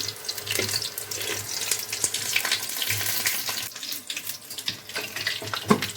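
Pumpkin flower fritters (kumro fuler bora) fry in hot oil with a continuous hissing, crackling sizzle. Sharper pops and scrapes come through up close, and no one speaks.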